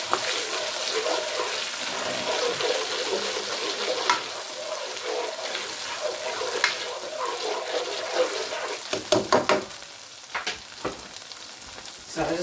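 Garlic frying in butter gives a soft, steady sizzle. Near the end come several sharp clatters, like a utensil stirring and knocking against the pan.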